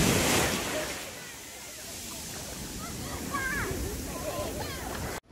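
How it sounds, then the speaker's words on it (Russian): Waves surging and washing in steadily at a beach in Korea, a broad rushing roar with splashing, while voices and bird-like chirps come through faintly. "О, какая волна!"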